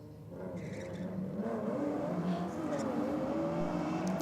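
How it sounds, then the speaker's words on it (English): A Datsun drag race car pulls away from the start line, its engine revving with rising, wavering tones at moderate distance, partly under a commentator's voice. "Now the Datsun leaving the start line in the Rocket lane. Sounding great as it makes its way down the racetrack."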